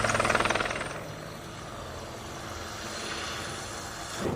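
An Apache helicopter flies overhead with a loud, rapid rotor thump at first that smooths into a broad, steady roar of engine and blade noise, swelling again near the end.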